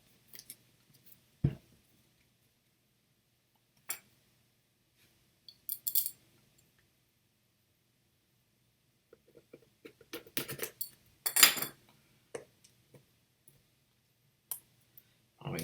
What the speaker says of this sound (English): Let's see, gotta take it out of the plastic here.